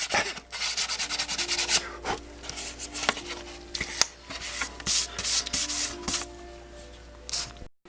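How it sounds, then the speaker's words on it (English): Wet-and-dry 400-grit sandpaper rubs along the edges of Yamaha FZ600 motorcycle fairing parts, making repeated close scratchy strokes in an uneven rhythm with short pauses, and no talking. "I've got some 400 sandpaper wet and dry. I want to radius all the edges off."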